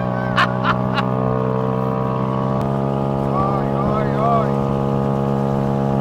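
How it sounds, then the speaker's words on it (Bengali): A smooth, steady engine of a tuk-tuk fitted with a car engine hums continuously at an even pitch, with a few short squeaks early on and faint whistling tones drifting through. "আমার মনে হয় ভাই এটাতে গাড়ির ইঞ্জিন লাগানো"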